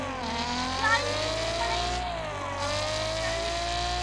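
Engine whine of cars racing in the mobile game Car Parking Multiplayer, a steady revving drone with gently shifting pitch, loud and continuous with no talk.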